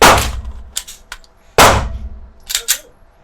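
Two sharp 9mm pistol shots from an M17 firing Badger factory-reloaded ammunition, each a loud crack with a ringing tail, the second about 1.6 seconds after the first, followed by clinking brass and metallic clatter.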